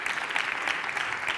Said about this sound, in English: And we also invite, yes, a big warm applause.